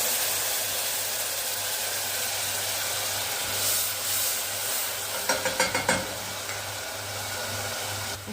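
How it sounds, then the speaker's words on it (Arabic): Garlic fried to a light golden color sizzles in a pot for Egyptian koshari as a quarter cup of vinegar goes in, a steady close hiss that flares into a few sharp bursts near the end. "بعد ما الثوم بقى خد معايا لون ذهبي فاتح ما سبتوش يغمق، هضيف عليه بقى ربع كوبايه من الخل."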